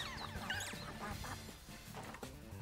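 A voice imitates the gravelly, quacking grumble of Donald Duck in a rapid, sputtering run of squawks, loud and close with no other speech.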